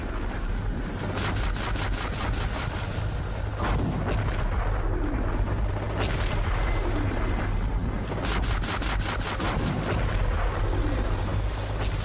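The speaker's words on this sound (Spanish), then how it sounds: "Podíamos oír los cañonazos del Schleswig-Holstein" Naval cannon fire from the battleship Schleswig-Holstein on the first day of World War II: repeated heavy booms roll out over a constant low rumble and wind-like noise, each blast sharp then fading, distant and powerful.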